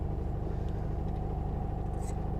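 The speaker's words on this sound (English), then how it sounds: "Still idling." A 1972 VW Super Beetle's air-cooled engine idles steadily up close, a low throbbing rumble with an even pulsing beat that carries on unbroken and without voices.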